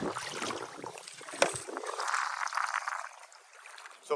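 Gentle paddle strokes sweep through water alongside a Crescent CK1 11-foot kayak, soft splashing swishes close by with a faint gurgle, building and easing over a few seconds.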